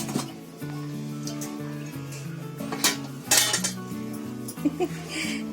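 Metal pots and vessels clank and clatter as they are taken down in a home kitchen, a close run of ringing knocks and scrapes with a few sharper hits near the middle.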